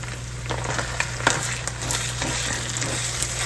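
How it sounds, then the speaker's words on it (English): Sloppy joe meat simmering in sauce in a pan on low heat, a steady soft sizzle and bubbling with occasional light pops, close and continuous, no talking. "just turn this down low and let it simmer in the sauce for a little bit"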